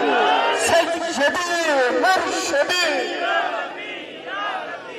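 A crowd at a religious sermon gathering shouts slogans in unison, several loud, drawn-out collective cries close together, with a voice leading between them.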